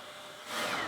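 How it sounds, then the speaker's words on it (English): A hairdryer blows a steady broadband whoosh that swells louder midway, heating a dried acrylic paint skin used for Christmas decorations. "I'm going to use the hairdryer to heat the skin a bit"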